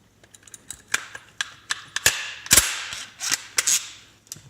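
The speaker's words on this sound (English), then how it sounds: "this is gonna be kind of loud to put the barrel assembly on. Some clicking noises real quick." Sharp metallic clicks and snaps, irregularly spaced, some doubled, as a gun's barrel assembly is pushed and locked into place up close.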